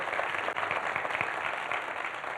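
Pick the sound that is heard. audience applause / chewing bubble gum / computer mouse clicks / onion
audience applause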